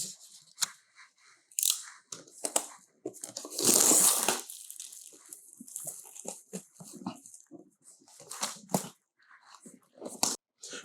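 Plastic wrap is cut and pulled off a large box holding a Hyte THICC Q80 Trio AIO cooler. Close crinkling and rustling peaks in one loud burst, with smaller snips and crackles scattered around it.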